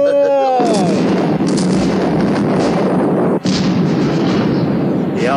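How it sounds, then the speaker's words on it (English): Heavy, continuous blasts roar from a burning munitions ship in a model-tug harbour scene, a loud rumbling barrage with repeated crackling bursts and one sharp new detonation near the middle, after a brief tonal whine at the start. "there were really big explosions"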